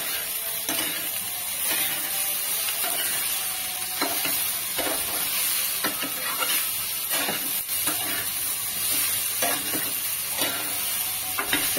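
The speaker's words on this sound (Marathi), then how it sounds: "आता आपण भेंडी पलटी करून घेऊया।" Okra (bhindi) is flipped and fried in a pan for a Marathi kadhi recipe. A continuous close sizzle is broken by repeated spatula scrapes and turns, with no voices.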